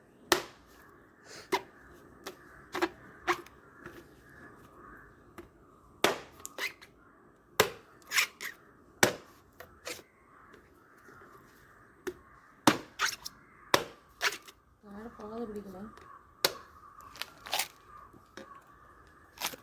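Tender coconut being cut with a blade, a series of sharp, irregular chopping strikes, fairly close and crisp, separated by quieter gaps over a low background murmur.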